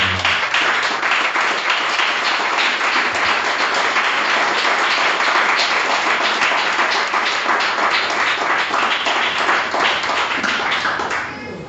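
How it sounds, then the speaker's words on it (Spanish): Loud, sustained applause from a church congregation, dense clapping that holds steady for several seconds before tapering off at the end. "Pido que aplaudas al Señor de la gloria"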